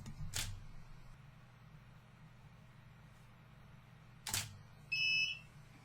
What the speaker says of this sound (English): I'm going to hit start to automate the 360 image capture process.